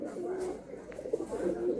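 Domestic pigeons at a pigeon sale, an Andhra or Madrasi breed dealer's male bird among them, coo in soft repeated rolling calls at moderate distance amid steady background murmur.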